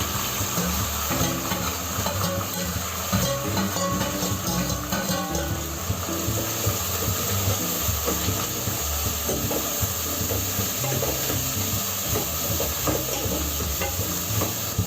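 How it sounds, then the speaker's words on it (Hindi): Onions frying in a pan with toasted cumin seeds for a paneer hariyali gravy, a steady close sizzle and hiss with stirring scrapes running throughout, no voices. "प्याज को हम अच्छी तरह से भूनेंगे।"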